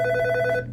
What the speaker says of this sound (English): And my phone's going off.